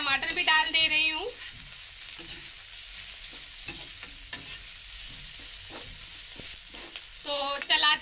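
Capsicum and tomato stir-frying over high heat in an iron wok, with a steady close sizzle and repeated scraping stir strokes; brief tonal bursts sit at the start and end.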